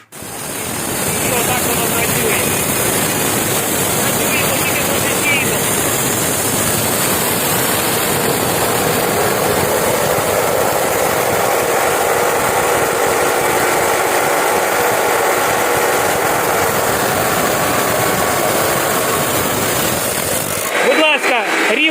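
A power saw cuts a 45-degree corner into a metal angle bar, a loud continuous grinding whine held for about twenty seconds before it winds down at the end.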